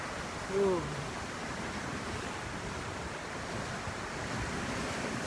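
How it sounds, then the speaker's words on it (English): Windy ocean surf rolls in, a constant broad rush of waves and wind noise with a short vocal exclamation near the start, captured outdoors. "I love windy days like this on the ocean."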